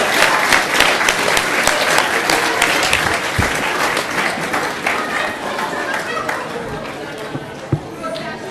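Sustained audience applause for a man at a town sesquicentennial celebration, loud and continuous clapping that thins slightly toward the end, with some talk mixed in.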